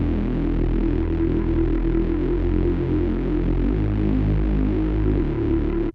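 Distorted Reese bass synth built in Serum, a loud, gritty, throbbing low drone with shifting detuned notes and a slow phasing wobble, sustained alone until it cuts off.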